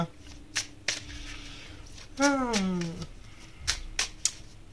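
Oracle cards are shuffled for a love reading, giving several short, crisp riffling bursts and taps spread across the moment, with a brief tonal sweep of a voice in the middle.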